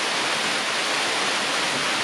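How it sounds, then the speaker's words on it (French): Apia waterfall at Dindéfélo, Senegal, roaring in a dense, steady rush of falling water that fills the whole clip without pause, loud and close. "La cascade d'Apia, source de la cascade de Ségou."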